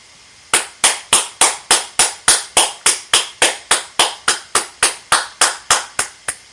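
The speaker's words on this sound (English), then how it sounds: "We want to give all of the Ujamaa babies a round of applause" A round of applause for the Ujamaa babies: about nineteen loud, evenly spaced claps in a steady rhythm, close and clear, with no talking.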